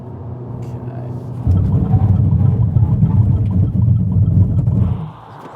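A Haval H6 hybrid brakes hard from 100 km/h, heard from inside as a steady rumble of road and tyre noise that swells louder mid-clip, then drops away abruptly as the car comes to a stop.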